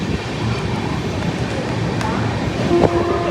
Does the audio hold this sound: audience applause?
no